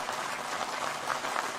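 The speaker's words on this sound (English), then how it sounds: "How about some applause?" Brief burst of audience applause at a live comedy show, a steady wash of clapping with no talk over it.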